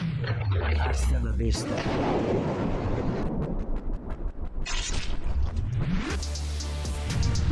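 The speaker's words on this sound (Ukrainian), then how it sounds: "Давай, тепер стріляй." A burst of heavy gunfire sound effect from a superhero prank skit: dense, crackling rapid blasts with booming low rumble go on for several seconds, loud and chaotic, framed by whooshing rises at the start and end.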